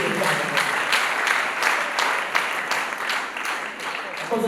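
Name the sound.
wedding guests applauding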